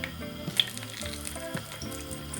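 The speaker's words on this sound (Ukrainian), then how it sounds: "олія шкварчить" Oil sizzles and crackles steadily in a pan over low heat while frying meat and potato belyashi, with small pops scattered through the hiss, close by and fairly quiet.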